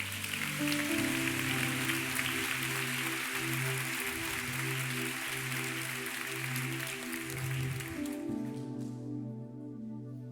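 Congregation applauding God during an evangelical church service, a sustained wash of clapping over steady organ or keyboard chords, continuing for several seconds before fading out at the end.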